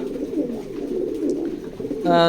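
A pair of big-sized checker racing pigeons, male and female, coo low and steady at close range in a racing loft, with a brief bright harmonic voice-like sound cutting in at the very end.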